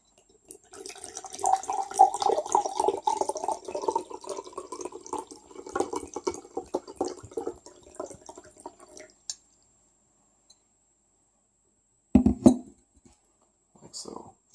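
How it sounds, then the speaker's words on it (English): Water pours steadily into a glass for several seconds at close range, then stops, leaving silence before a couple of short clinks and bumps; a person talks nearby. "I'm just gonna pour up some water here"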